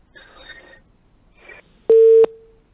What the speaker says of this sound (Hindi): आपकी लाइन जो है वो मुनक़ता हो गई है